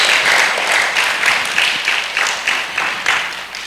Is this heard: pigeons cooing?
no